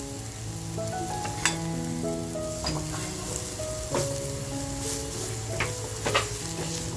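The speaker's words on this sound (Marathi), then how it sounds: "बघा आपला मसाला असा छान फ्राय झालाय" Masala with turmeric and salt frying in a pan for a prawn-stuffed squid dish, a steady close sizzle with occasional stirring clicks and scrapes, no talking.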